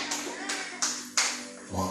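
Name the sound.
church congregation clapping for Jesus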